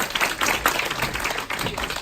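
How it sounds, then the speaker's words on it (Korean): An audience at a business leadership gathering in Korea claps as a presenter is called up, loud close handclaps in a brisk, uneven burst with a short dip partway through. "우리 안효원 사장님 나오실 때 큰 박수 부탁드립니다."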